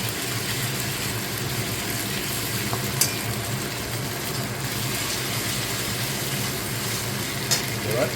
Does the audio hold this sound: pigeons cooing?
no